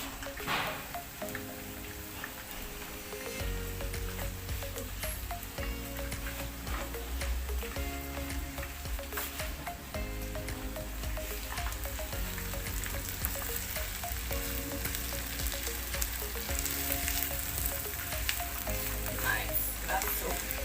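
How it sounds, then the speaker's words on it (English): Food sautéing in a pan with onions and dhania being cooked, a steady loud sizzle and crackle running throughout with occasional stirring clatter. "The purpose of sauteing is to just give you that translucent color."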